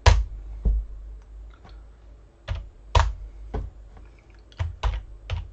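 A password being typed on a computer keyboard, heard as irregular close key clicks and a few sharper taps over a low background hum, with no talking.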